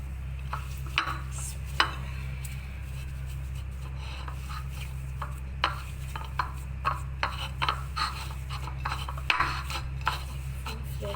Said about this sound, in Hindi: इसको बहुत अच्छी तरह से मिक्सअप करें, इसी से भूनते जाएं।